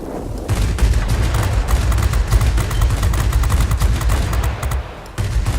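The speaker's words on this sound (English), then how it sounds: "the guns are strong enough to take this down" Guns on a Ki-84 fighter plane in the video game World of Warplanes fire at German bombers in long, loud, rapid bursts. A steady engine drone runs underneath, and there is a short pause near the end.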